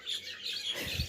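Finches chirp in quick, bright bursts at close range, a short lively exchange of tweets with no talk.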